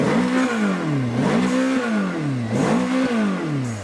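Ferrari engine revving repeatedly at a car collection, several rising and falling revs in quick succession, loud and close with no talk over it.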